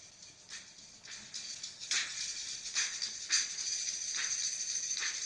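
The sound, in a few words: recorded drums and shakers percussion track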